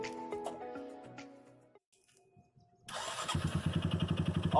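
A Honda Biz motorcycle engine with a strange noise is started up close: faint clatter and a quiet pause, then it fires and settles into a loud, rapid pulsing idle.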